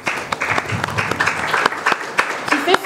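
Audience applauding at a press conference at the Institut français in Kinshasa, dense close clapping with sharp individual claps standing out and voices mixed in.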